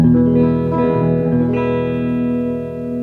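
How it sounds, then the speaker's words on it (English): Clean electric guitar with no effects or distortion, sustained picked notes ringing with a steady bright tone, fairly loud and alone throughout. "You just get the sound of the strings being picked up."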